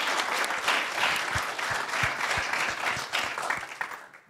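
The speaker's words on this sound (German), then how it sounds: "einen ganz herzlichen Applaus, denke ich, spenden" Audience applause at a lecture-series event, a dense, steady round of clapping from a seated crowd lasting the whole stretch and tapering slightly at the end, with no one talking over it.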